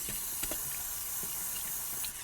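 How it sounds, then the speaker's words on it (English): A spray can of penetrant hisses continuously at close range, soaking the starter area on a Chevy S-10, in a steady burst lasting a couple of seconds. "The next thing I'm going to do is just spray down the area with some penetrant."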